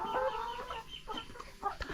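Farm hens in a flock of about twenty-three birds cluck and murmur close by in a short, busy burst of overlapping calls.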